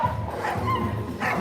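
A golden retriever gives a few short, mid-distance barks and yips at an outdoor dock diving event, with crowd noise behind them.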